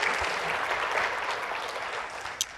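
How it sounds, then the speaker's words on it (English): Audience applause at a talk on AI hiring, a steady wash of many hands clapping at moderate volume, sustained throughout with no speech over it. "Deserves an applause."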